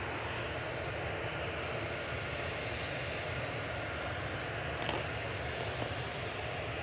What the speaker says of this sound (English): Ryanair 1946 from Memmingen, just coming over the threshold now.